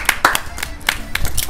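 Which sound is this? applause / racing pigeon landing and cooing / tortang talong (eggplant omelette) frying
applause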